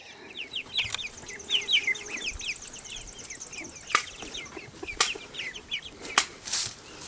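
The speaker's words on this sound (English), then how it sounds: "there's the chickens hiding under the trailer." Chickens cluck and chatter in short bursts close by, mixed with chirpy bird calls and a few sharp knocks and flaps, with no talking.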